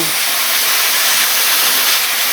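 Steady close hiss of an airbrush spraying tangerine orange paint over yellow on a Dodge Magnum, continuous and even throughout with no pauses.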